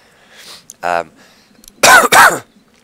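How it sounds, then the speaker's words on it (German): A man with a cold coughs, first one short cough and then a loud, close double cough, with quieter throat sounds and breaths between. "Und manchmal muss ich noch mal husten."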